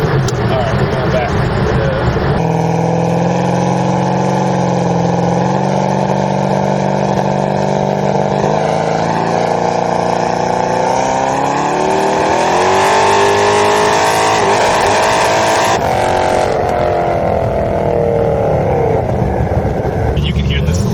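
A 1500 whp Chevrolet Camaro engine revs hard and loud nearby, a sustained roar that climbs and falls over about twenty seconds, with exhaust smoke noted and people talking over it.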